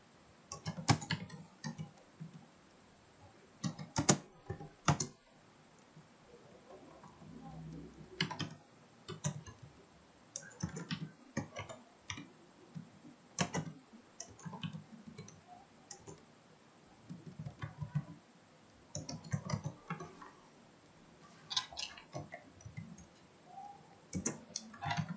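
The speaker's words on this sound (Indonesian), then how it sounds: "kita ketik scriptnya" Someone types a Node.js script on a computer keyboard, close clicky keystrokes coming in quick bursts separated by short pauses and repeating for about twenty-five seconds, with no talk.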